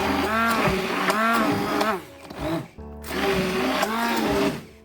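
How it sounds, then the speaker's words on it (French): An electric blender purées mashed potatoes with a whole egg for hachis parmentier. It gives a loud, close whirring drone with wavering pitch, dips briefly midway, then revs up again. "Je commence à la mixer."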